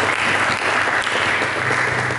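A church congregation claps together in sustained applause for Jesus during a sermon, a dense even patter of many hands with no voices over it.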